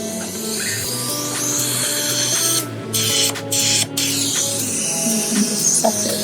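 A HydraFacial suction wand drawing gunk out of a teenager's skin, a continuous close hiss and buzz with a few short dropouts as the tip lifts and resets, no talking.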